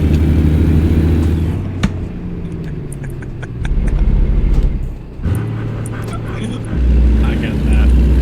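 Engine of a Kenworth truck hauling a heavy load in American Truck Simulator, a steady low drone that rises and dips with throttle changes, heard close and continuous beneath someone talking.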